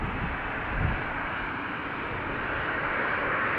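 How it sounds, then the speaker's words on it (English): A Boeing 737 approaching at Amsterdam Schiphol Airport, runway 36L Polderbaan, gives a steady, broad engine roar that holds at an even level throughout, with no voices. "this is an actual 737 coming this way"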